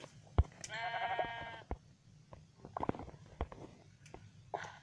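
A sheep bleats once in the Minecraft video game, a short wavering call amid scattered clicks and soft game noises, with no talking.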